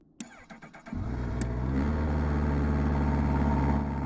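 A few mechanical clicks, then a 2024 Honda CB1000R motorcycle engine with stock exhaust fires up and settles into a loud, steady, throaty rumble that holds to the end.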